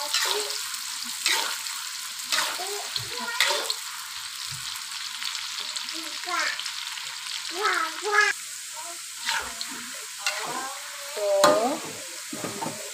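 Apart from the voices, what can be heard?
frying shallots in a pan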